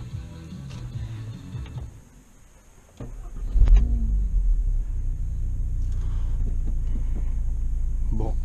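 An Audi TT RS engine cranks and catches, then settles into a low, fairly discreet idle rumble that holds steady, heard from inside the car after a few faint clicks.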